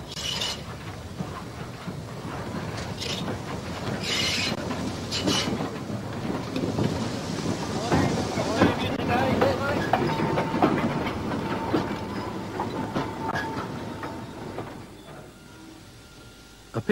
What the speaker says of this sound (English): Pickup goods train would amble through Highley once or twice a day.